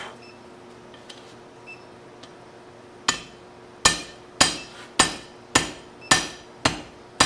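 A small cross peen hammer strikes hot metal at a forge, a few faint taps and then a steady run of about eight sharp, ringing blows, loud and close, each with a short metallic decay.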